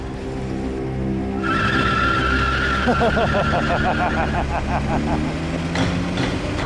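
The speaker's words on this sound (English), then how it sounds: "Wheel spin, a lot." A V12 27-litre Rover car spins its wheels while accelerating, with loud tyre squeal and rising engine roar, close and continuous.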